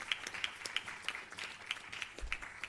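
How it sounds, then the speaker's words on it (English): Audience applause at a regional conference on organized crime in the Caribbean fisheries sector, a short, faint burst of scattered clapping heard from a distance in a hall. "And that deserves a big round of applause."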